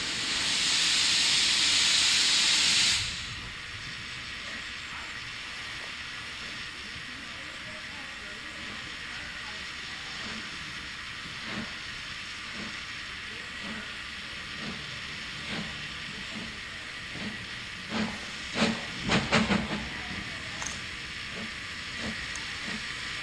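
Steam locomotive 99-4511 releases a loud, close hiss of steam for about three seconds. Quieter ambient rumble follows, with scattered clanks and knocks near the end as the train is readied.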